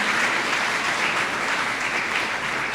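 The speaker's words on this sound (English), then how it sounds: "let's again, a big applause for all of you who are working hard" Steady, dense applause from an audience at a high school scholarship awards ceremony, filling the room evenly for the whole stretch without a break.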